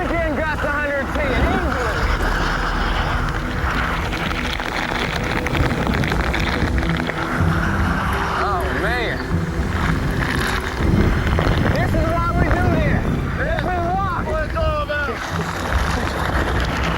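Hurricane wind gusts reaching about 110 near the approaching eye roar and buffet the microphone in a steady, heavy rush, while excited voices shout over the din throughout.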